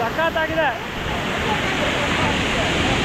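Hidlumane Falls in Karnataka pours down in a steady, loud, broadband roar heard close by. A brief voice opens over the rushing water.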